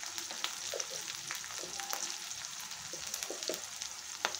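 Jun plant stalks frying in a pan with salt and turmeric, a steady close sizzle broken by scattered pops and spatula scrapes, no voices.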